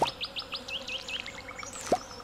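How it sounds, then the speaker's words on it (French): Small birds chirp in the Stardew Valley countryside, with a quick run of high, bright tweets and a couple of sharper plopping notes, soft and close against a quiet background. "on entend les petits oiseaux"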